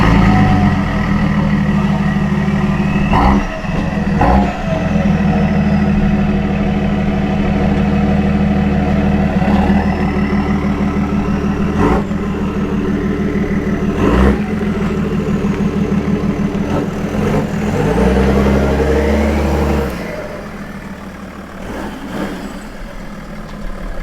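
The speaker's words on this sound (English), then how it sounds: "do a little cold start action with this thing" A BMW 335d diesel engine runs at a steady idle after a cold start, with a loud, continuous low rumble and diesel clatter. A few sharp clicks and knocks punctuate it, and the engine note drops near the end.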